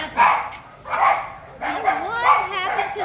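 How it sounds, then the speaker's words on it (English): An Italian greyhound gives a few close, high-pitched barks and yelps in quick succession, with voices talking nearby. "What a beautiful dog."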